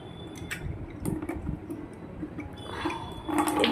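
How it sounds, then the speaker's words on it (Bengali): Tap water runs into buckets at home, a soft, uneven splashing flow with small clicks and knocks, growing louder and fuller toward the end. "এদিকে টাইম করে জল চলে এসছে, আমি জলটা ভরে নিচ্ছি বালতিগুলো ভালো করে ধুয়ে।"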